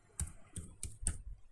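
Four crisp keystrokes on a computer keyboard, evenly spaced and close, typing a username, with no talking.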